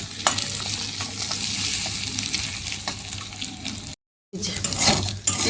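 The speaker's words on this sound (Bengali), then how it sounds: "ডিম ম্যাগির ঝুড়ো ভাজা হয়ে গেছে" Egg and Maggi noodles fry in a pan, a steady close sizzle with stirring scrapes and brief watery splashes, cut by a short silent gap near the end.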